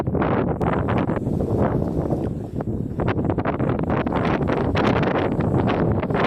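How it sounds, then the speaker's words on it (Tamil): A strong wind blowing outdoors, a steady, loud roar with gusty buffeting against the microphone that continues without a break, with no voices. "அவ்வளோத்துக்கு காற்று தள்ளிட்டே இருந்துச்சு."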